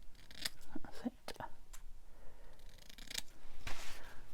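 Scissors snip through journal paper in a handful of short, crisp cuts close by, with soft rustling and faint breathy sounds between them.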